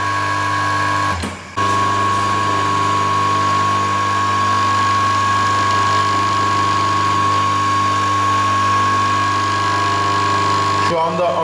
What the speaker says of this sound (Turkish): Şu anda ana sargı üzerinden motorun devir yönünü değiştireceğim.